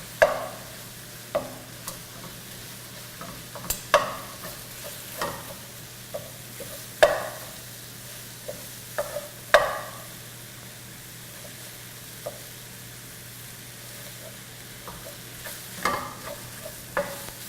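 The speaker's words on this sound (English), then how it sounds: "Let me just give this a quick stir." Sausage is stirred in a pan with sharp, irregular scrapes and clicks of the utensil, a soft sizzle running quietly underneath.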